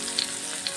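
Banana pieces fry in a pan with a brief, constant, close crackling sizzle.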